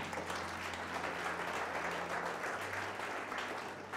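A church congregation claps together in a continuous, dense patter of hands that stays even and steady throughout, moderately loud in a reverberant hall.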